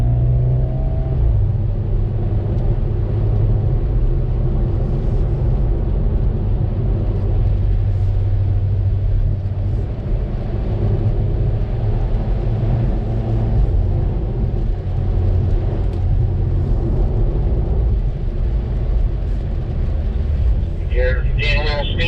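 A Hyundai Veloster N laps a race track, its engine droning loudly and steadily throughout with a low rumble, while a voice talks over the car noise.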